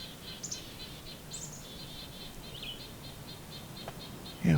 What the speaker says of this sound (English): Oh, we got goldfinch.